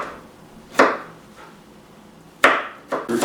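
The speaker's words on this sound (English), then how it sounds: "2 garlic cloves, we're gonna cut these up fine." Knife chopping two garlic cloves finely on a board, with a few distinct, crisp knocks at uneven intervals and quiet stretches between them.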